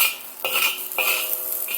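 Food sizzles and hisses in a cast iron wok as a utensil stirs it in three quick scraping sweeps, close and fairly loud, with no voices.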